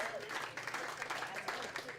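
Audience at a live comedy show applauding to welcome a comedian, a steady wash of clapping from a crowd that holds for the whole moment, with a host's voice over it.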